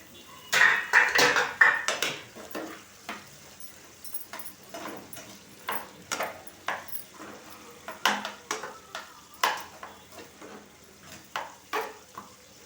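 Onions fry in a pan with a soft, steady sizzle beneath repeated clinks and scrapes of a utensil stirring against the metal, quick irregular knocks spread throughout.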